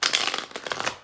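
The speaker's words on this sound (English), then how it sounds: "while I'm shuffling these cards" A deck of tarot cards is shuffled by hand, a quick close run of riffling, papery flutters and soft slaps in rapid bursts, with no talk over it.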